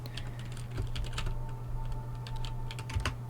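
Computer keyboard typing in an office-style work simulation, a steady run of close, crisp key clicks of varying loudness over a low constant hum, with no voices.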